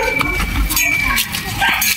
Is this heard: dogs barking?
yes